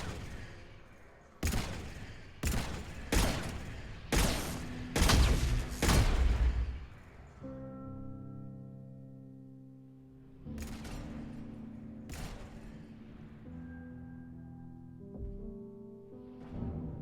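Gunshots in Mass Effect 3, a series of sharp, loud blasts fired in quick succession early on, then two more isolated shots later over a low humming game backdrop.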